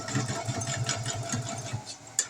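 Close, steady whir of a sewing machine running a small, tight 2.5-length stitch with a rhythmic, fast needle beat, continuous throughout with a small click near the end.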